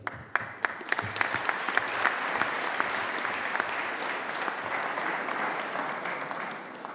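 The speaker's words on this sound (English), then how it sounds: "thank you in particular for that lively cheering and dancing from over there in the cathedral" Graduation ceremony audience in a cathedral clapping loudly and continuously, a dense, steady applause with sharp individual claps at the start and a hall-like reverberant spread.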